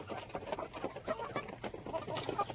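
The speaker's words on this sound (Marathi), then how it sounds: "खूप छान कोंबडा आहे." A free-range country rooster clucking nearby in a rapid, irregular series of short throaty calls over a steady background hiss.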